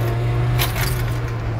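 Mercedes S202 engine revving hard at full throttle after a downshift, a steady loud close drone with a strong low hum and a brief rise in rasp partway through, no talking.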